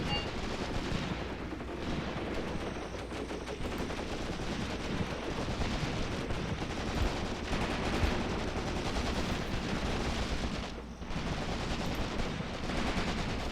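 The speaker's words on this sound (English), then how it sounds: "I'm hoping he will go ahead and fire a few mortars in that general direction" A dense, unbroken roar of battle fills the World War II game Graviteam Tactics: Mius Front, with mortar fire and gunfire blending into a loud continuous rumble and no one speaking.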